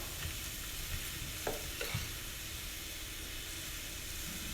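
Steak sizzles and fries in a pan while cooking until tender, a steady hiss with a few soft stirring clicks and bumps, no talking.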